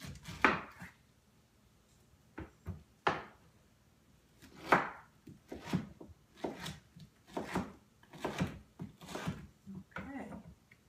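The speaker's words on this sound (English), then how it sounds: "we really want to cut off pieces that we can put into our beautiful dish" Pineapple is cut into pieces with a knife on a board for a healthy pineapple upside-down cake, making a close series of about a dozen sharp chopping knocks, irregular at first and then quicker and steadier.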